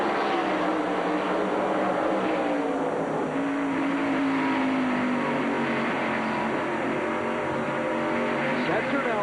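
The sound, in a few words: Pontiac race car engine heard from roof cam, NASCAR Busch race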